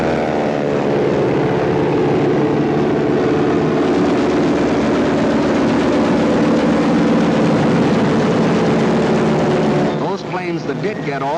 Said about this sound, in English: the planes of the Luftwaffe were over Poland